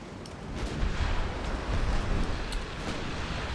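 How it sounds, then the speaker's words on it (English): Torpedoes launching in a naval warfare game set in a British campaign, heard as a steady, loud rush of low rumbling and hissing water noise with faint sharper bursts over the top, no voices. "More torpedoes going out."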